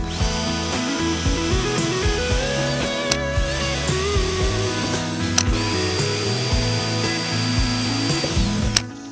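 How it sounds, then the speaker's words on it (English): A power drill whirs in short bursts, pre-drilling holes in plastic for a van roof fan, its motor pitch rising and falling as it bites in, with clicks and clatter between runs. "So let me go ahead and start pre-drilling these."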